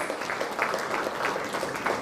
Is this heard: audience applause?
yes